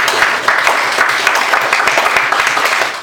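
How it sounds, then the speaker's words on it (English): Audience applause at a Startup Weekend HealthTech event, a steady wash of many hands clapping for about three seconds, dense and fairly loud with no talking over it. "Applause for the guy."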